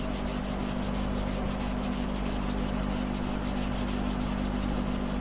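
Steel chisel rubbed back and forth on a wet sharpening stone, a steady rhythmic scraping rasp repeating about four strokes per second over a constant low hum, close up and with no voices.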